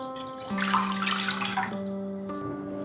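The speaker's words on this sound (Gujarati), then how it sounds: "પુષ્કળ પ્રમાણમાં પાણી નાખીશું." A generous amount of water is poured into a kadhai, giving a splashing, rushing gush that lasts about a second before tapering off, set against a steady tonal hum that continues throughout.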